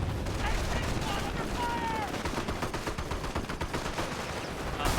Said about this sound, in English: that was the Commando decoy barrage